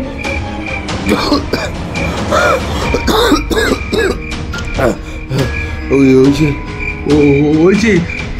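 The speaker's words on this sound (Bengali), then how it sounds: "শুকনো গলায় 2-1 বার কেশে বললেন" A man gives a couple of dry, harsh coughs and throat clears in a dramatic ghost-story scene, with short sharp bursts mixed with voiced sounds and speech nearby.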